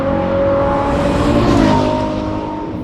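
The Nettuno engine of a Maserati GranTurismo revs loudly and close by, a strong tonal engine note that swells to a peak and then eases off over a few seconds.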